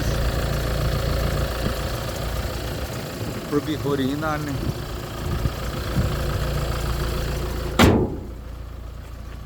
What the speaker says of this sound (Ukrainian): чиста робота двигуна, 18 тисяч пробігу, ніяких нарікань